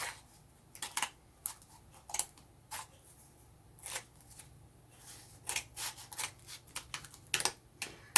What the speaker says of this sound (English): using our scissors, we're going to cut through the opening we already made